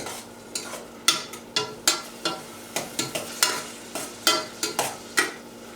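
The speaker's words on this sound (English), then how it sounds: "let's let that fry up just a touch" Tomatoes with salt and spices sizzle in a pan on the stove for channa masala, with a dozen or so distinct stirring scrapes and clinks at irregular intervals over a steady low fry.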